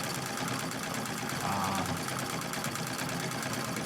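A sewing machine runs steadily doing dense free motion quilting on heavy suede-look upholstery fabric, a continuous moderate mechanical whir and patter with no talking.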